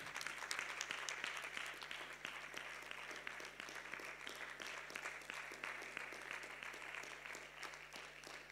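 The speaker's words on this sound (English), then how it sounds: "Can we give God a mighty clap offering?" A church congregation claps steadily in a dense, even patter that sounds faint and distant, with a low steady hum underneath.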